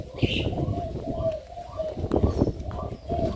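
Spotted doves kept at a bird farm in Ca Mau, Vietnam, give repeated nearby coos while someone talks over them.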